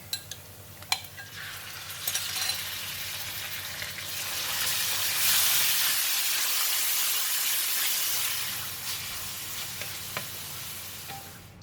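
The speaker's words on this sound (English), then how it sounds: "And now I'm putting in the beef." Ground beef sizzling with softened garlic in a pan, a steady close hiss that swells louder midway, with occasional utensil clicks and no voices.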